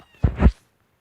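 A cat that has just given birth gives a single short meow, close and fairly loud, then quiet follows.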